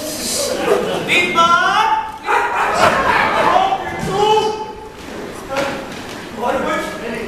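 An actor on stage in a play imitates a dog, with several short voiced bark-like yelps mixed into loud talk and laughter from the cast.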